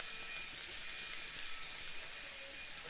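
Tomato bhaji sizzles steadily in oil inside a covered pan, a dense continuous hiss and crackle with no voices.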